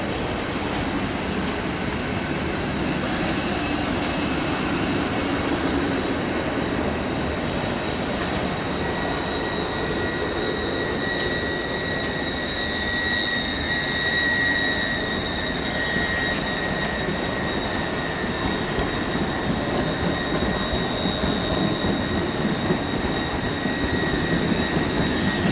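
A three-coach ScotRail train idles at a platform in Edinburgh station, with a constant engine and ventilation hum, faint high squeals, and the broad wash of a large station hall throughout.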